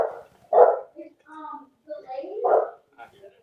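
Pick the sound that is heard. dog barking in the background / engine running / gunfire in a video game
dog barking in the background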